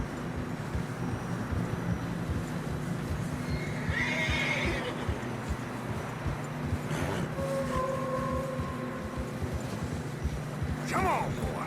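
Horses neigh and whinny while hooves plod through deep fresh snow on a narrow mountain trail in Red Dead Redemption 2, with a steady low rumble underneath and sharp whinnies rising near the start, middle and end.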